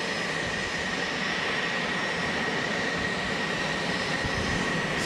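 A Boeing 777X taxis at Boeing Field, King County International Airport, its jet engines giving a loud, steady broadband roar with a high whine on top that stays constant throughout.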